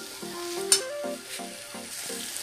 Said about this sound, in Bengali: এবার আমি এর মধ্যে একটুখানি জল অ্যাড করব।